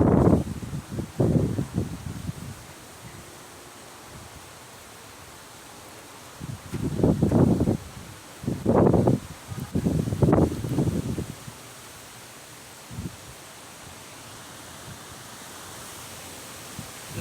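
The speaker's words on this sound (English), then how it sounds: "And that's a gust of wind." Wind gusts from Tropical Storm Idalia buffeting outdoors, several broad roaring bursts of a second or two each, loud and close, separated by quieter lulls.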